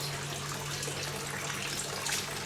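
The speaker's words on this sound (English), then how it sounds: "That's the new water feature." A small new water feature in an outdoor cat enclosure trickles and splashes continuously, a faint, steady wash of running water with no voices.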